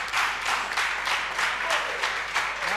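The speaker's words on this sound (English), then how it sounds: "A round of applause for Fernand." A studio audience at a TV talent show applauds, steady dense clapping rising in waves, fairly loud and close, with no talk over it.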